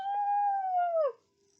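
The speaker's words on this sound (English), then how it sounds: "Then behind them they heard a wild howling." A single wild, wolf-like howl rises clearly and holds for about a second before sliding downward and fading, leaving near silence.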